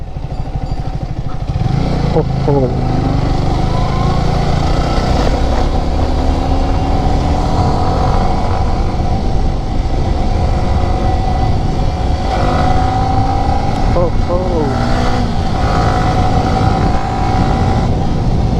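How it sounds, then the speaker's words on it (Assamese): A motorcycle engine, overdue for servicing, runs steadily and loudly throughout, with a rough idling rumble and occasional slight shifts in pitch, close by. "আৰু বাইকখনৰ চাউণ্ডটো বেলেগ হৈ গ'ল ছাৰ্ভিচিং নিদিয়াৰ কাৰণে"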